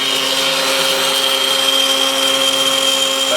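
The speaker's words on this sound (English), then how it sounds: "I'm cutting out this little practice thing here for a little gift for Vanessa." An X-Carve CNC machine cutting a small practice piece runs as a loud, continuous, steady whine with stable tonal hum lines, close and unbroken, with no talk.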